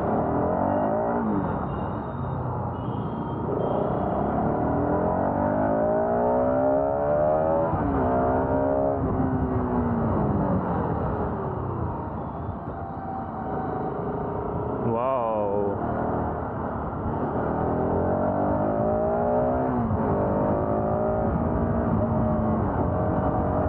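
A motorbike engine revs and accelerates repeatedly, rising and falling in pitch through traffic, while a person talks over it.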